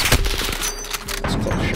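Rapid gunfire bursts from the video game Modern Warfare, loud and close, with cracking shots in a dense sequence and no talk.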